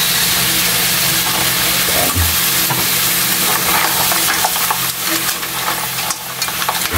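Seafood stir-frying in oyster sauce with corn added to the pan, a dense steady sizzle close by, stirring scrapes and knocks scattered through it.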